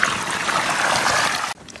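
Stream water flows steadily past a village field, a loud, close, continuous rushing trickle that cuts off abruptly near the end.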